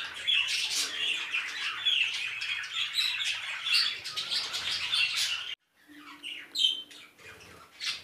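Rainbow parakeets in an aviary squawk and chirp densely in a shrill, continuous chorus, breaking off briefly before scattered nearby calls resume.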